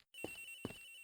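A cell phone ringing in the Ace Attorney Investigations video game, repeated electronic ring bursts in a steady rhythm with a sustained high tone between them, clear and alone.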